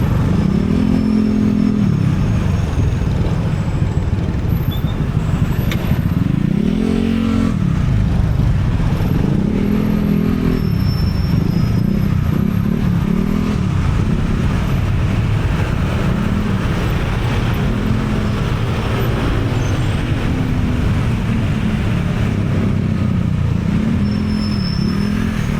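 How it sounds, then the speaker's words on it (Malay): A motorcycle rides through congested Bangkok traffic among many cars and motorbikes, its engine droning steadily with repeated rises in revs, surrounded by a dense, continuous roar of nearby vehicles. "Sangatlah jam, sesak, motor pun banyak, kereta pun lagi banyak."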